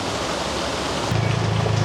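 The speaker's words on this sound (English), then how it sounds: "just arrived at an incredible waterfall on my way to Ella. The rain has really brought it to life, making it more powerful and beautiful." Powerful waterfall near Ella, Sri Lanka, swollen by rain, gives a steady, dense rush of falling water that fills the whole clip, with a deeper low rumble joining partway through and holding to the end.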